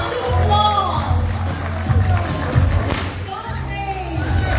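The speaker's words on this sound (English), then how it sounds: "Let's all give them a round of applause." Audience applause and cheering welcoming the BCLP 23 participants onto the stage at a Christmas party, a steady, loud wash of clapping and crowd noise with voices over it throughout.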